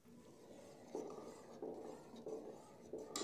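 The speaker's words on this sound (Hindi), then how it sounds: "चम्मच से हम हिला लेते हैं" A spoon scrapes and knocks against the inside of a pot of lentils several times in an uneven rhythm, soft and close, with no talking.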